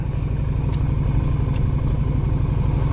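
Close motorcycle engine, a low throbbing rumble pulsing rapidly and steadily for three seconds as the clutch is let out, with a couple of faint clicks above it and no speech.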